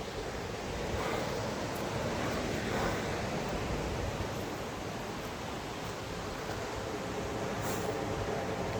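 Ocean waves at Mystic Beach on Vancouver Island, a steady broad wash of surf close by with gentle swells and some wind buffeting the microphone, no voices.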